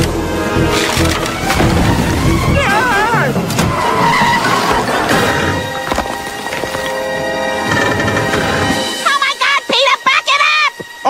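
In an animated Family Guy scene, a car drives off with engine noise and tire skids amid frantic, overlapping shouting voices, then the engine sound drops away and a few sharp, choppy sounds follow.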